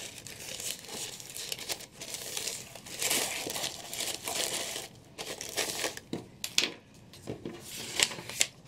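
Paper packaging is folded and handled for a small hair care business order, a close series of crinkling, rustling paper sounds in uneven bursts with brief pauses, no talking.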